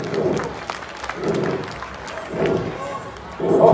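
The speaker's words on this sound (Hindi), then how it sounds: "जोरदार ताली।" Audience at a staged Ramlila performance of the Ravana and Angad dialogue clapping loudly in swelling bursts, with a brief pause between waves of applause.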